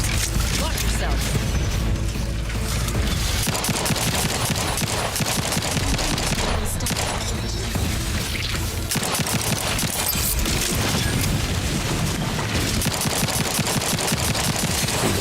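Sustained automatic gunfire in the Outer Worlds 2, dense rapid bursts with crashes and mechanical clatter that stay loud and nearly unbroken throughout.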